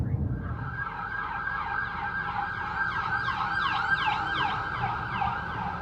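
An ambulance siren wails in a steady, continuous cycling tone on a street in the Navy Yard area of Washington, D.C., heading toward a fire, with traffic rumbling underneath.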